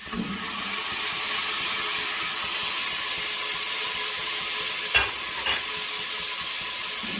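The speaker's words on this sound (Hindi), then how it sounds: "मिलने के बाद इसमें पिसा हुआ टमाटर ऐड कर रही हूँ।" Ground tomato going into sizzling moong daal masala brings a loud, continuous hiss of frying, followed by two short stirring knocks near the end, with no voices.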